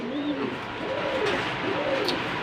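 Racing pigeons of an Olympic line coo close by in soft, rolling, repeated calls over a faint background, with no talking.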